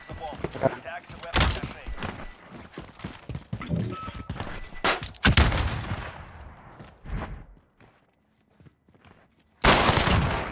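Stun grenade and bursts of gunfire in a competitive 2v2 online shooter match, rapid sharp shots and impacts in clusters, a near-silent gap, then a loud final burst, with players talking over it.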